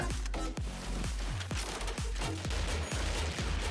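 Gunfire in the video game Crisis Action, with rapid, loud shots repeating in a steady burst rhythm over about four seconds and no voices.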